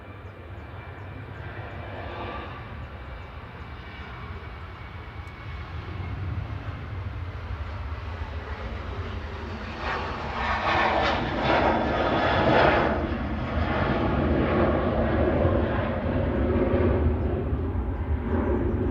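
A Boeing 737-800 jet airliner departs Manchester Airport for Menorca, its engine roar swelling from a steady distant rumble into a loud, broad thrust that holds to the end, with no talking.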